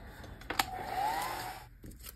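A hair dryer blowing on a handmade journal cover, a short steady whir with a couple of clicks near the start, faint and close, no talk.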